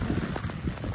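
Heavy rain pours down in a jungle, a dense, steady hiss of drops drumming on surfaces, loud and close, with no talk.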